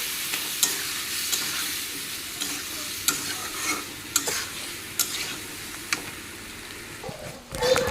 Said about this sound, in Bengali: এখন দিয়ে দি সাজনা ডাটা টমেটো লবণ হলুদ গুঁড়ো আর কিছু দেব না এতটুকুই মশলা এখন নেড়ে নিই